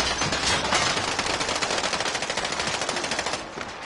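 Rapid machine gun fire in a video game firefight, a dense, continuous burst of sharp shots in quick rhythm, loud and close for nearly four seconds.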